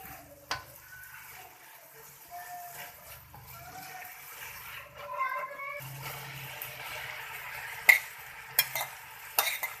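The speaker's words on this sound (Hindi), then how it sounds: "अब इसके अंदर डाल देंगे मैक्रोनी।" Macaroni for a vegetable pasta dish, seasoned with extra crushed red chili, is tipped into a pan and stirred, giving soft scraping and a gentle sizzle, with a few sharp clinks near the end.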